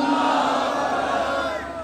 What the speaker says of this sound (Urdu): بلند آواز سے نعرے کا جواب دیں